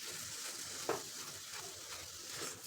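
A coconut burfi mixture is stirred in a pan over a low flame, giving a soft, quiet sizzle with occasional light scrapes of the spoon.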